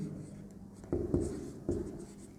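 Chalk or marker writing on a board, a few short scratchy strokes in quick succession, faint and close, with low room noise and no speech during the strokes.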